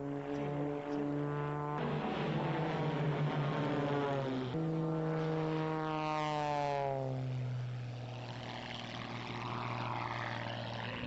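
Race aircraft flying a practice round at Motegi, a loud, steady propeller-engine drone whose pitch rises and falls as the planes pass, with no voices.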